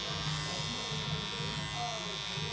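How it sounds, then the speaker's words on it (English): Electric hair clippers buzz steadily up close while trimming a big beard at a barber, a constant motor drone. "Now I'm going in with my clippers"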